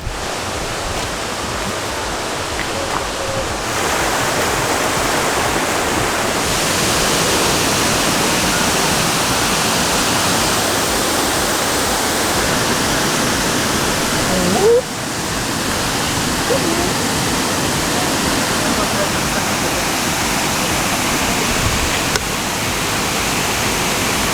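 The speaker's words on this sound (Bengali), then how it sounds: "ঝর্ণার শব্দ" Waterfall in a Thai jungle, a continuous broad rushing roar of falling water that swells louder after a few seconds and holds steady, with no talk.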